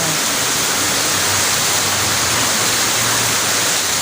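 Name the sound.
floodwater rushing in canal during super typhoon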